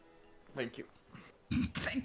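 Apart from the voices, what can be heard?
repressed cough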